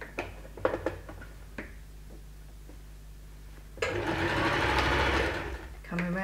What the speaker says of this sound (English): So using a straight stitch, you can always go in and over sew it.